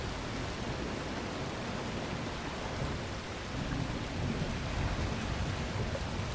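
Rainstorm with thunder in the survival game The Last Caretaker, a constant roar of heavy rain over deep rolling rumble that swells slightly partway through, with no talking.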